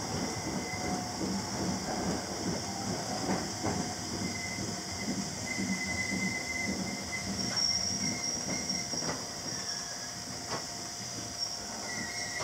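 A train rolls steadily along the rails of the Tohoku Main Line with a constant rumble and occasional faint wheel squeals, heard from inside a one-man carriage.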